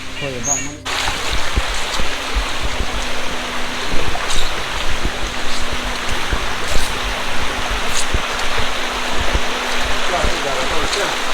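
A rocky mountain stream in Bandarban's hills rushes downhill in the monsoon like a small waterfall. The water roars loud and close, a steady broadband rush that never lets up.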